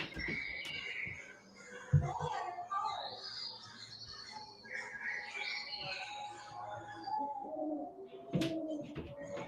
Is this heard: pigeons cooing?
yes